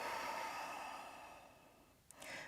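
During yoga practice, a slow audible breath is drawn and released near the microphone, a soft airy rush that fades, followed by a short sharper inhale.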